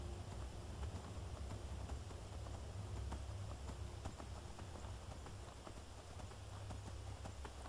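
Steady rhythmic hoofbeats of a horse in the video game Skyrim clip-clop along at a brisk pace, quiet and even, over a low continuous background rumble.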